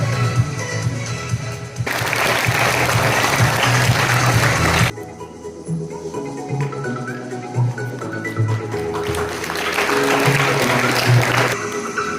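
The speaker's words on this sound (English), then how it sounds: "let's cheer loudly for them. They love claps and a little extra encouragement" An audience at a school inter-house fancy dress, singing and dance competition claps for students on stage: a loud, dense burst of applause for about three seconds, a quieter stretch with murmuring, then a second strong round of clapping near the end.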